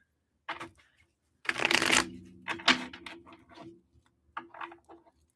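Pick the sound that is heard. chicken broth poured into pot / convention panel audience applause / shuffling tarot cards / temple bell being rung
shuffling tarot cards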